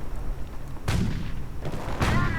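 Two heavy bursts of gunfire and booming blasts in a WWII strategy video game, each a loud crackling volley standing out over a steady battle rumble, with no voices.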